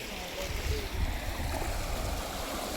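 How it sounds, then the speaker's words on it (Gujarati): Strong floodwater rushes by a stalled car in a steady, close wash of noise. "અને પાણી તમે જો બહુ જ જાય છે અહીંયા"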